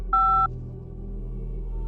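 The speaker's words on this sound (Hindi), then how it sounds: "बिना अपने सीए का जवाब सुने सिड ने फोन काट दिया" A single short electronic beep, close and clear, marks the phone call ending, then a low steady hum continues.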